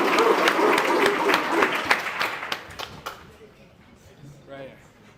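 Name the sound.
audience clapping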